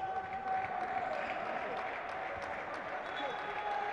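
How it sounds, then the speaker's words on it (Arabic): Spectators clap and cheer in an indoor arena at a Kuwaiti league handball match as a young player comes onto the court, with steady crowd applause under ongoing commentary. "تتعالى الصفقات له، تشجيع له"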